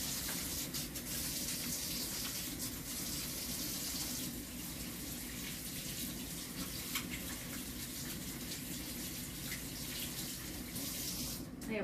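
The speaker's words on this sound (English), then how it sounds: "So right now I'm going to wash my hands." A kitchen tap runs steadily while hands are washed under it before baking cinnamon rolls, a constant close splashing gush of water over the sink lasting about twelve seconds with no speech.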